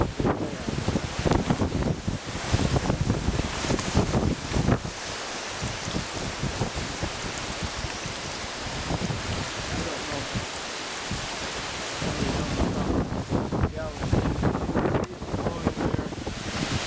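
Water rushes steadily through a passageway at a strong rate, a broad continuous hiss with wind buffeting on the microphone, louder at the start and end, and no one speaking.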